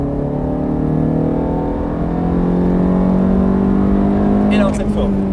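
A race car engine roars steadily at full throttle and high revs, holding a loud, sustained drone, with a brief rattle near the end.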